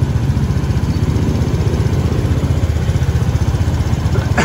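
A repaired motorcycle engine whose battery was swapped after stalling, idling loud and close with a steady throbbing pulse throughout and no talking.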